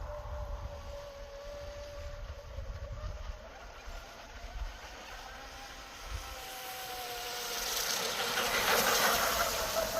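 A Proboat Blackjack 24 radio-controlled boat runs at about half throttle, its steady motor whine carrying across open water from a distance and swelling louder toward the end as it passes closer.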